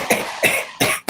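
Several short, sharp coughs come in quick succession, close and fairly loud, with brief pauses between them.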